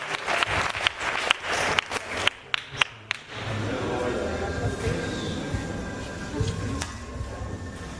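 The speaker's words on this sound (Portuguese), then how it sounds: "quem crê nisso, aplauda bem forte, Jesus" A church congregation at a vigil claps in a burst of scattered, sharp hand claps that quickly trail off, followed by murmuring voices and crowd noise in a reverberant hall.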